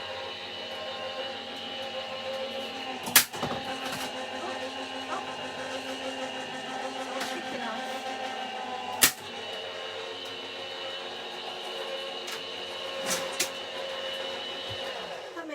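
A steady mechanical hum and whir from a Gemini die-cutting machine runs throughout, with a couple of sharp clicks or cracks standing out, fairly quiet and close.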